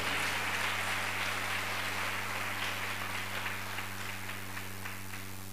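A church congregation claps for itself, a dense wash of steady applause from many hands, moderately loud and continuous over a low electrical hum.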